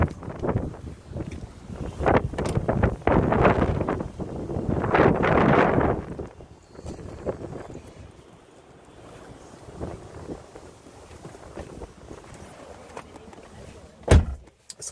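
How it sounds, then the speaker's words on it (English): Gusty wind buffets the microphone outdoors beside a high-mileage BMW, loud rumbling bursts in the first six seconds easing to a steadier, softer rush, with a sharp thump near the end. "It's quite a windy day today"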